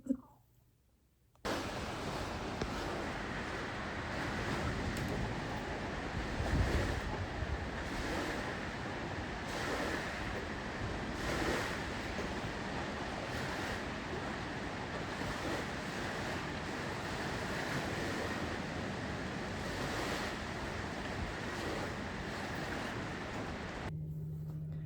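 Heavy pouring rain roars as a steady, dense broadband wash that stays close and loud after a short quiet start, with no voices over it.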